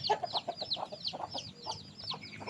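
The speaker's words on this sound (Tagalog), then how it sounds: "Maraming manok sila dito" Several chickens cluck in quick, overlapping bursts close by, a busy chatter of short calls with no one speaking.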